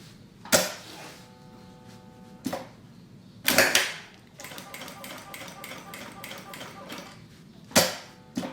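A sewing machine stitches fabric slowly along a marked line while making a baby wipes and diaper holder. Close mechanical clatter comes in short bursts, with a sharper knock now and then and a run of rapid stitching in the middle.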